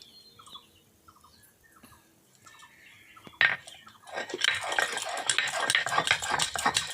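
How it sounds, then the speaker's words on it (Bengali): Soaked taro being ground on a stone grinding slab, a rough, gritty scraping that starts after a quiet stretch with birdsong in the background and grows louder, close by, no talking. "দেখো বেটে নিচ্ছি, এখন ধুয়ে বেটে নেব।"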